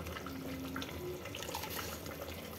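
Hot water poured from a cup into a cooking pot of Hyderabadi mutton sutriyan off the gas, a steady close splashing trickle with faint bubbling, no talk.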